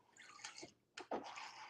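Water splashes and trickles into a container in a home kitchen while a bourbon chicken dish is being made, a short, faint run with a brief pause and a renewed splash.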